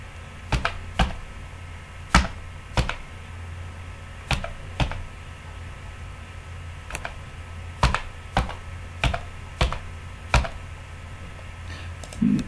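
Sparse, crisp keystrokes on a computer keyboard as an Aadhaar card number is typed into an RPF recruitment online form, about a dozen separate clicks in an irregular rhythm over a quiet room hum, with no talking.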